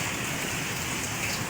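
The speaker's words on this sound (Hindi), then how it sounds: "बहुत तेज़ बारिश हो रही है।" Heavy monsoon rain pours down outside a kitchen gallery in Karachi, a steady, even hiss of drops hitting the ground with no breaks and no voices.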